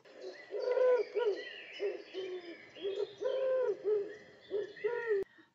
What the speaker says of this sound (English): There are lots of different phrases used to remember wood pigeon song.